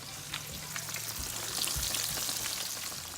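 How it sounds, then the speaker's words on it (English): Catfish pieces frying in hot grease give a steady, fairly faint sizzle with scattered crackles and small pops throughout, with no voices over it. "I kind of just let it kind of just fall in the grease just like that. And that's how you make fried catfish."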